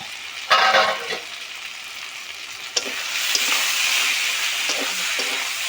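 Tender elephant foot yam stalks cooking with sea prawns in a pan, giving a steady loud sizzle and hiss with a sharp burst of frying early on, close and with no talking.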